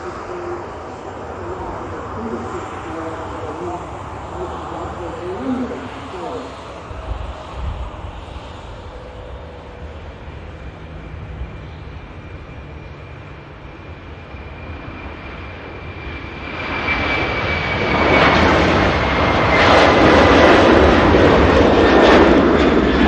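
A jet airliner departing Manchester Airport roars loudly, its engine noise building and swelling to a powerful, sustained peak near the end as it climbs away.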